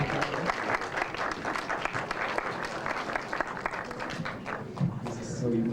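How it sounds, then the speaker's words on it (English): Audience applause at a 1994 film screening and awards event, steady dense clapping filling the whole stretch with a crowd murmur underneath and some voices mixed in. "More applause."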